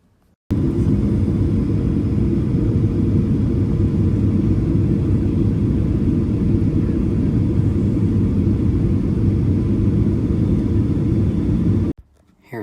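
A Boeing 737-800 airliner in flight on approach to Seattle over Puget Sound, heard as a loud, unbroken cabin roar of engine and airflow noise that holds steady throughout.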